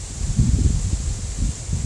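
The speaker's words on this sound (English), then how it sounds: "it's getting windy out there" Wind gusts outdoors in a low, rumbling buffet that rises and falls in uneven pulses, loud and close, with a faint steady hiss above.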